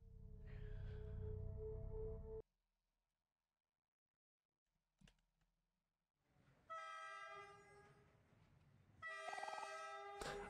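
A train in the video game Omori arriving at a station, with chiptune-style horn blasts: a steady horn, a silent gap with a brief click, then two more loud layered horn tones.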